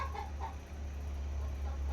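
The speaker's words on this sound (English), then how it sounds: "A damn chicken, I'm telling you." A chicken clucks faintly in the background of a walnut sawmill workshop, a few soft, broken clucks near the start over a steady low machine hum.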